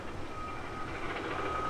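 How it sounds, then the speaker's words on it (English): Reversing beeps from industrial construction equipment working up the road, a steady electronic tone held over a constant low rumble of machinery. The sound is faint and distant and continues without a break. "There's a lot of like kind of industrial construction going on right up the road, so I'm hearing a lot of that equipment."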